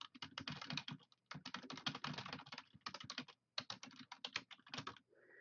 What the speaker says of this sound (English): I'm gonna type that out